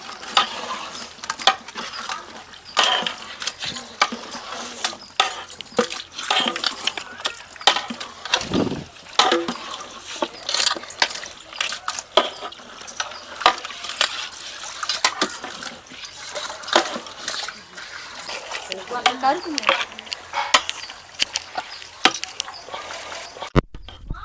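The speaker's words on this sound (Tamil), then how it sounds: "இப்போ 10 கிலோ சிக்கன் ஆட் பண்ணுறோங்க." Ten kilograms of chicken is stirred in a large pot over sautéed onions and tomatoes, with dense, irregular wooden scraping and clattering and a faint sizzle throughout, close and fairly loud.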